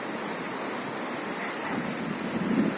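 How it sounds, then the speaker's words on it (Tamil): Strong wind blows outdoors as a steady, close rushing hiss that grows gustier and louder toward the end. No one speaks. "காற்று வர ரொம்ப அடிக்குது."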